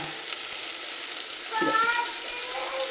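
Chopped tomato tipped into a masala frying in a pressure cooker for egg biryani, giving a steady sizzle that swells briefly as the pieces land, with faint distant voices behind.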